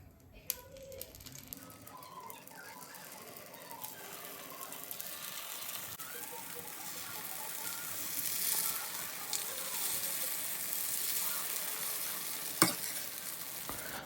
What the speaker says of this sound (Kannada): ಬೆಳಿಗ್ಗೆ ಬೆಳಿಗ್ಗೆ ಗುಂಪಂಗ್ಳು ಅಥವಾ ಪಡ್ಡು ಮಾಡ್ಕೊಂಡು ತಿನ್ನೋದ್ರಲ್ಲಿ ಬಹಳ ಮಜಾ ಇರುತ್ತೆ